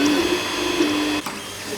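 An Anycubic Mega Zero 2.0 3D printer runs nearby with a steady motor hum and whine, a brief high stepper tone and a small click partway through.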